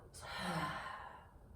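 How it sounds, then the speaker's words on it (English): A single slow exhale during a yoga session, a soft, breathy rush of air that swells and then fades gradually over a second and a half, close and quiet. "And breathing out."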